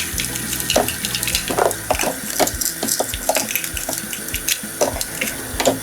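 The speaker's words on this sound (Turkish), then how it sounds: "Güzelce yıka onları." Tap water runs steadily into a sink while potatoes and carrots are rinsed, a continuous splashing stream with scattered knocks and clatters of vegetables, close and fairly loud, with no talking.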